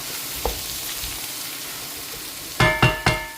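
Kottu parotta sautés in a pan with a constant close sizzle, then three sharp clattering strikes near the end, no talking.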